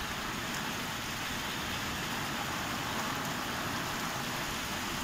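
Heavy rain pours steadily during a thunderstorm over Doniford Bay in Somerset, a dense, constant roar of drops close by with no voices.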